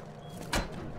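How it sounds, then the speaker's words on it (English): A weapon being reloaded in the survival game Rust, a single short mechanical clack and slide at moderate volume, standing alone over a low steady background. "I gotta reload it. Okay. I'm reloading it."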